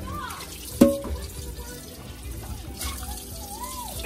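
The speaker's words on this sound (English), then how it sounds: "Normal day of lunch and washing dishes." Dishes being washed with water during island chores, a quiet trickle and splashing of water with a sharp clink of a dish near the start, faint voices in the background.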